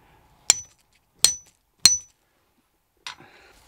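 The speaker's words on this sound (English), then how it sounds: "I'm going to whack it quite hard with a hammer in order to get a crimp that's going to hold it on" Three sharp metallic hammer strikes on a wire lug being crimped, spaced under a second apart, followed after a pause by a softer fourth knock with brief rattle; close and clear with no talk.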